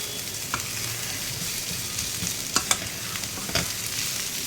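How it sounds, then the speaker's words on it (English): Sliced onions sautéing over a high flame in a one-pot veg pulao, a steady bright sizzle with a few sharp stirring clicks, close and continuous, no speech. "So I'm sauteing this for just 1 minute only, not too much, and on a high flame"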